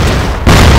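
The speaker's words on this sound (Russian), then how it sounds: "граната!" A grenade detonates in a first-person video game, one loud close blast bursting in after a brief muffled lull and filling the clip with heavy low rumble.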